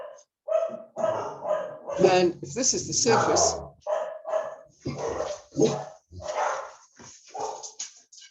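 Several dogs bark loudly and repeatedly in a room close by, their sharp, rapid barks and whimpers mixing with a person talking throughout.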